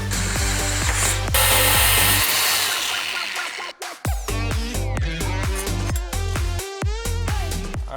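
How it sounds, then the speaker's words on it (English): A power drill whirs steadily, its pitch dropping and catching as the bit drills holes through the sides of welded metal tabs, with a brief pause before it spins up again. "Now I just need to drill holes through the sides."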